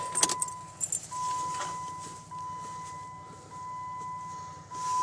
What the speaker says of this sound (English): Oh, let me get my keys.